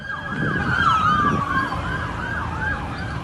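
Ambulance siren wailing in a rising and falling pattern from a recording of a shooting scene with the victim still in a car, steady and fairly loud over low road rumble, with no talk.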